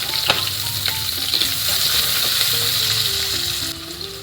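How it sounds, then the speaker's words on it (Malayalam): Chopped garlic and shallots sizzle steadily in a hot pan, a continuous bright frying hiss with occasional soft clinks of a spoon stirring, close up with no talking. "രണ്ട് വെളുത്തുള്ളി അരിഞ്ഞത് ഒരു കാൽ കപ്പ് ചെറിയ ഉള്ളി അരിഞ്ഞു വെച്ചത് എന്നിവ ചേർത്ത് വഴക്കാം"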